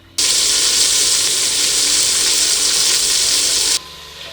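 Salt-and-pepper seasoned beef pieces sear in a pan with a loud, steady, close sizzle that starts abruptly and cuts off sharply after a few seconds.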